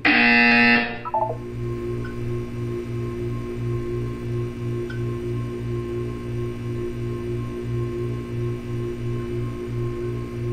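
A loud electronic buzzer in the video game Portal blares at the start, then gives way to a steady pulsing low tone and a faint mechanical hum.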